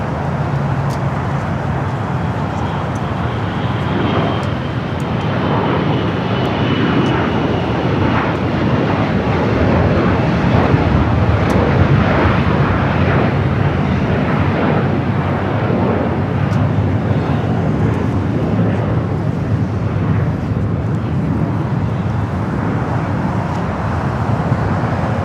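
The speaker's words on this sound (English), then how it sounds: "NetJets taking off 25 at right" A NetJets business jet, a Global 6000, takes off from runway 25 Right at LAX, its broad steady engine roar filling the scene at constant loudness for the whole stretch, with faint road traffic mixed in.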